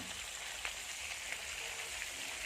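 Tilapia slices fry in hot oil in a pan, giving a steady, dense crackling sizzle with occasional sharper pops, close and fairly loud throughout with no talking.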